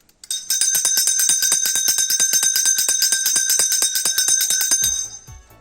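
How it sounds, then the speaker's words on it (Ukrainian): A school bell rings rapidly and continuously at a first-day school assembly, fast metallic strikes for several seconds, loud and close, then stops abruptly. "Настав час пролунати першому дзвонику."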